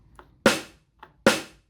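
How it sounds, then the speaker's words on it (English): Yamaha RX5 drum machine sample with envelope loop on, struck twice: a faint tick precedes each loud, bright noisy hit that sustains briefly and then fades smoothly, with the hits roughly 0.8 seconds apart. "what's happening is a portion of that sound is being looped and then fade out to create the release"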